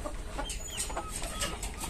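Hill-breed chickens clucking nearby in short, scattered calls over a steady outdoor background hum, with no talking.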